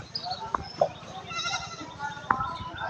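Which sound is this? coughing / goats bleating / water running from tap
goats bleating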